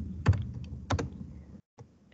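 A computer keyboard clatters as text is typed into a PowerPoint footer, with a few clustered key taps, a short pause of near silence, then softer taps resuming close by.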